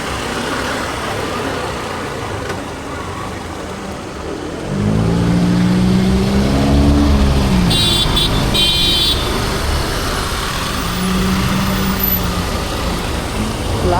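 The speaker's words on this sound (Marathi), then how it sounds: "ही समोरची होंडा तिथे एक क्लास आवाज सोडते" A Honda vehicle's engine is heard nearby over steady outdoor road noise, its low rumble swelling for a few seconds as it revs, then easing back under continuing traffic hum.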